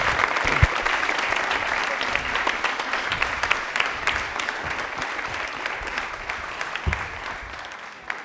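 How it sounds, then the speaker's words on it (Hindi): A studio audience at a televised quiz show breaks into loud, sustained applause for a contestant: dense, continuous clapping with a few sharper claps standing out, fading slightly toward the end. "फराज के लिए एक बार तालियां जोरदार हो जाएं प्लीज।"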